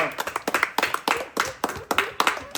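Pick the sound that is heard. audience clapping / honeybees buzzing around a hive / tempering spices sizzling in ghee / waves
audience clapping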